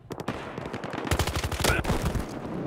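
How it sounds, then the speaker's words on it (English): Sniper rifle fire in Battlefield Hardline, an online Conquest Large match on the Derailed map played on Xbox One, comes as a loud, rapid string of close sharp shots that keep going without a break. "Dude going ham with this sniper rifle."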